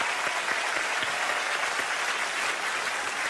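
A studio audience on a Moroccan television show applauds a singer with warm, continuous clapping that holds at an even level for several seconds and has no talk over it.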